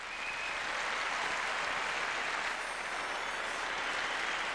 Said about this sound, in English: Kind of get the golf clap or the opera clap at the end of a program